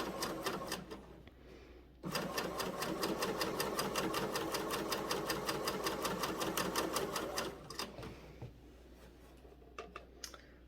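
Coverstitch sewing machine running with its left and center needles over plaid fabric, a fast steady mechanical chatter held for about five seconds between a few slower starting and stopping stitches.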